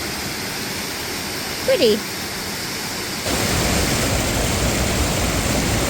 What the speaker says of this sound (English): Waterfall number 1.